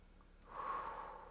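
One slow, soft breath during a vinyasa yoga class, a faint airy exhale through the nose that swells and fades over about a second in a quiet room.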